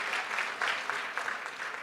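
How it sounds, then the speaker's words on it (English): An audience at a parole review summit claps together in brief, moderately loud applause, a dense crackle of many hands at close range. "A round of applause."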